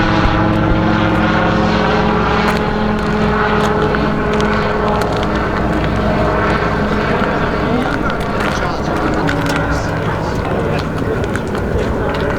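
Propeller aircraft engines drone steadily and loudly at a vintage aircraft fly-in, a continuous buzzing roar across the whole stretch with a voice partly heard beneath it.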